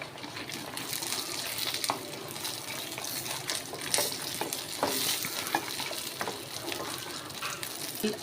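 Puffed gram and peanuts roasting dry in a pan for chutney, stirred steadily so they rattle and scrape with a soft continuous sizzle, close and even throughout without any talking.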